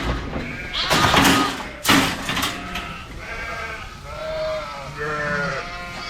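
A lamb bleats in a lambing barn, several loud, close, wavering cries with a thump in between and no talk.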